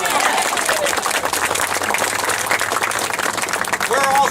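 A rally crowd applauds for a political candidate in Fredericksburg, Virginia, dense sustained clapping mixed with a few cheers, loud and continuous from start to finish, with a voice briefly audible beneath.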